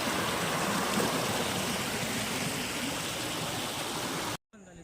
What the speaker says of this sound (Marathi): आवाज बघा पाण्याचा कसा आहे